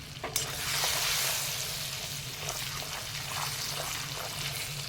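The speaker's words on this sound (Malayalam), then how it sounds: "ആവശ്യത്തിന് ഉപ്പും കൂടി ചേർത്ത് നന്നായിട്ട് ഒന്ന് ഇളക്കണം" Salt being stirred into a frying nutmeg pickle mixture with chillies, a steady close sizzle and crackle of hot oil with spoon scraping through it, continuous for several seconds and no talking.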